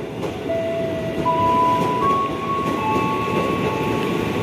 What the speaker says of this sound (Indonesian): ini masuk KRL tujuan Pasar Senen, Kampung Bandan via Pasar Senen